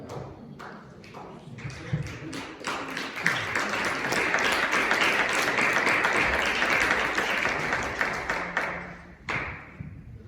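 Church congregation at an evening youth service breaks into loud sustained applause, starting with scattered claps that swell into a dense, steady roar before stopping abruptly near the end.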